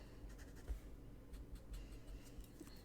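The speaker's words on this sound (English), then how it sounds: "Let's do our circles, little dots here. And then I'm going to mark where my triangle cutouts are going to be." A pen marking circles and dots onto material for a boondoggle keychain, producing soft, close scratches and light taps in short irregular bursts over a low background hum, with no talking.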